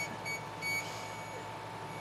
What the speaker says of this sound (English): The different beeps in the machine are based on the amount of wattage that is being emitted at one time